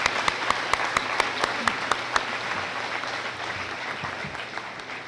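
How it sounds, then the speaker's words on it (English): An audience at a 2012 Sir Wilfrid Laurier commencement ceremony applauds: several sharp, evenly spaced claps ring out near the start over a steady wash of crowd clapping that carries on at moderate level. "let's clap for them."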